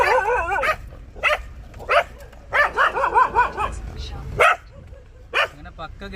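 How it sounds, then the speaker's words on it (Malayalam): Dogs in a rural village in Andhra Pradesh bark and yelp in short repeated bursts, some close and loud, some whining, with steady background noise underneath. "നായ്ക്കളൊക്കെ പിന്നാലെ കൂടിയിരിക്കണേ."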